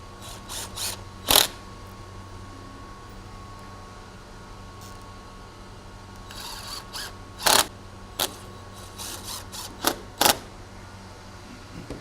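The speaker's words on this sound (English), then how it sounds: "Then we're just going to fasten it through the back using some bugle head screws." Bugle head screws driven through the back of crown molding during trim installation, heard as several brief sharp ratcheting mechanical bursts spread across a quiet room with long pauses between them.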